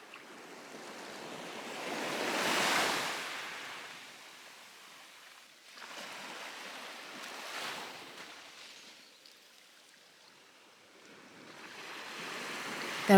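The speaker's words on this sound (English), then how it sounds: "The water is very still out here, and the waves gently lap the shore." Calm sea waves lap softly at a beach shore, a faint slow wash that swells and recedes in two or three gentle surges with no voices.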